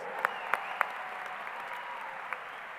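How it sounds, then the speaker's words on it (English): Audience applause at a high school graduation ceremony, steady dense clapping from a large crowd heard at a moderate distance, with a few sharper close claps standing out. "give them a round of applause"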